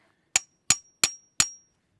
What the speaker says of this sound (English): you can just hit it a few times with a hammer and it comes right out.